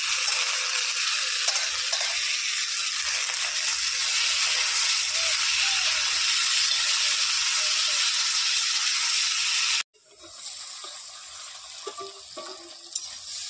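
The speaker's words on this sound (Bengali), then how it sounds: "সঙ্গে মটরশুঁটিগুলোকে একটু আলুর সঙ্গে ভেজে নেব" Potatoes and green peas frying in a pan, a loud continuous close sizzle with stirring, cutting off abruptly near the end to a quieter, softer crackle.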